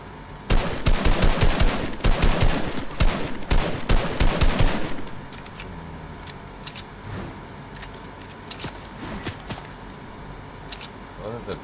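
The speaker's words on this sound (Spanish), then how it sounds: "Hay gente disparándome." Rapid bursts of gunfire from other players in Fortnite crackle loud and close for several seconds, then thin out to scattered, fainter shots in the distance.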